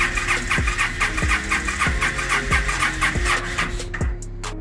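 A Yamaha V-Star 1300 motorcycle's starter cranks repeatedly in a steady rhythmic chug, about five even strokes, without the engine catching, then cuts off abruptly; loud and close, no talk.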